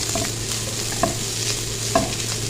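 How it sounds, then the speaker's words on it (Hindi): Shredded tikka chicken fries with onions in a pan, giving a steady close sizzle with a few scraping stirs on top and no talking. "इसको भी हमने प्याज के साथ थोड़ा सा फ्राई करना है।"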